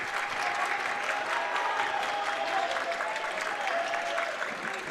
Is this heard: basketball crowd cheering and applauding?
yes